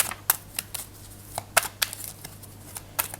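Oracle cards are shuffled and cut for a reading, giving a run of sharp, crisp card flicks and slaps at an irregular rhythm, close and fairly quiet, with no talk.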